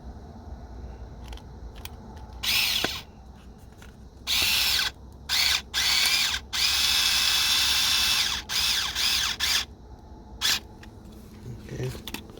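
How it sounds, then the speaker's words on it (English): A power drill whirs in repeated short bursts, close by, drilling thin holes for door speakers in a 2005 Scion xB, with quieter handling noise and pauses between each run. "You can drill holes first, it would be easier"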